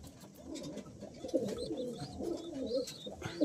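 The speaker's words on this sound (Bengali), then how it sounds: "এটা হলো মাদা পায়রা, এ হলো মাদা পায়রা" Female pigeons coo in a loft in low, rolling calls that repeat and overlap, with faint chirps above them and steady background noise.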